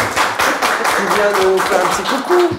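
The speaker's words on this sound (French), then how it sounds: "Alors on applaudit Justine." Audience applauds Justine on a French local magazine show, brisk rhythmic hand clapping close by, with voices speaking over the clapping throughout.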